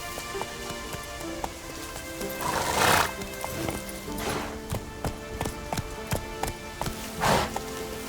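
Roach the horse in The Witcher 3 clip-clopping along with steady hoofbeats, giving a couple of loud whinnies over soft rain, with no talk.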